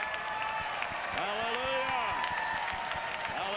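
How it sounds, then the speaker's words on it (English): A revival service congregation at Brownsville applauds in a steady wash of clapping with scattered cheers, while a voice calls out and sustained singing or shouting tones rise over the crowd. "Give him a good clap of it."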